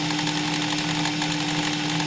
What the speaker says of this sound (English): there's a very little amount of vibration on the drill